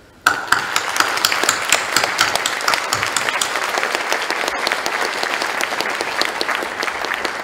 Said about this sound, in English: So, give a very strong applause to Buzz Aldrin.